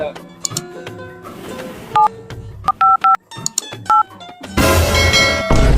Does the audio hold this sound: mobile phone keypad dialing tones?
yes